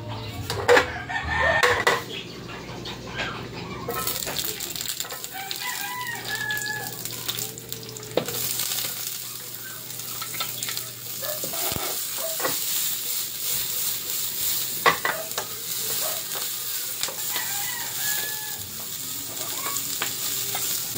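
Onion, ginger and spring onion sautéing in oil for shrimp with Coca-Cola, a steady sizzle throughout with scattered stirring clatter; a rooster crows faintly in the background.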